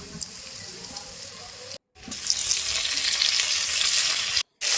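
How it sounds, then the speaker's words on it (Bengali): Chopped onion fries in oil with five-spice in a wok, a steady hiss and crackle that surges louder after a short break, with stirring scrapes and two brief silent gaps. "পেঁয়াজটা আমার ভাজা হয়ে গেছে"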